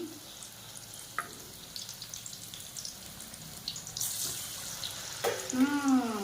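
Battered eggplant slices (beguni) frying in a generous amount of oil, a steady close sizzle with brief clinks and a swell of bubbling toward the end, no voices.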